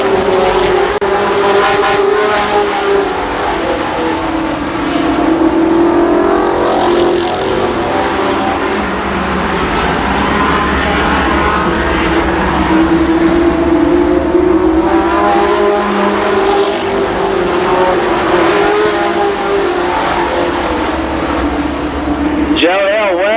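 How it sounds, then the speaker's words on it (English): Race cars roaring around Columbus Motor Speedway, a continuous loud engine drone rising and falling as cars pass, with an announcer talking over it throughout. "Joe Hill way sideways off the fourth turn that last time."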